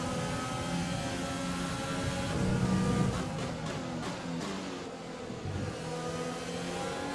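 An F1 car engine from the F1 2020 racing game howls steadily at high revs. The sustained harmonic whine climbs slightly as it accelerates and stays loud throughout.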